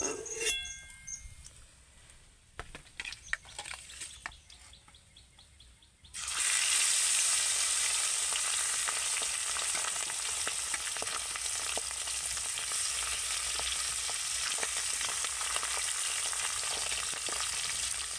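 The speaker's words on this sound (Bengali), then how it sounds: "এইরকম করেই কিন্তু মাছগুলোকে ভেজে নিতে হবে, একদম কড়া করে ফেলার দরকার নেই" Pieces of fish frying in hot oil, first some quieter clatter and handling, then a loud, steady, close sizzle that fills the rest of the clip, with no voices.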